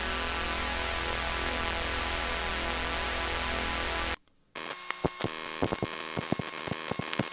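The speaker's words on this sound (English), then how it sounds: "a data reading, sawtooth LCD hum" A sawtooth-style electronic hum from an LCD screen gives a steady, dense buzz for about four seconds, cuts to a brief silence, then returns as a crackling digital texture with sharp clicks.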